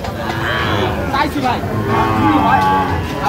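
Sahiwal cattle at a crowded post-Eid livestock market, a loud close bellowing moo drawn out over a few seconds, with a murmur of people behind.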